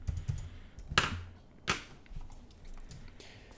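Typing on a Logitech Ultra X Premium computer keyboard, with two sharp, prominent key clacks standing out over a soft, continuous patter of lighter keystrokes, close and fairly quiet.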